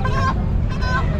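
Country chickens and roosters cluck and call loudly at a busy poultry market in Chakan, with two bursts of squawking over a dense, noisy background of crowd murmur.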